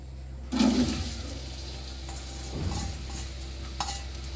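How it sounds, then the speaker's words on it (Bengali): Chopped onion hits hot oil in a pan for a large batch of biryani, a soft sizzle rising as it is stirred, with a few scraping sounds, close and quiet with no voices. "এখন দিয়ে দিব এর মধ্যে পেঁয়াজ কুচি।"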